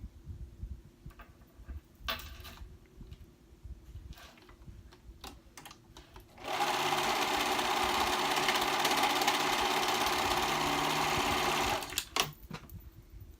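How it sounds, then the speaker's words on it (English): A serger sewing machine stitches dress fabric together at the shoulders of a reversible dress, starting with light handling clicks, then a loud, steady mechanical whir running for several seconds close by before stopping abruptly. "And here I go. Sewing those together."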